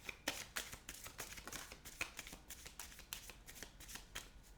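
A deck of tarot cards being shuffled by hand, the crisp riffling and slapping repeating in a steady rhythm close to the listener, with no voices.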